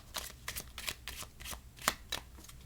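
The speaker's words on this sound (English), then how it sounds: "And we'll give it a shuffle." A deck of playing cards is riffled and shuffled by hand during a card trick, giving a series of crisp, rapid bursts of flicking card noise roughly every third of a second, close up and alone.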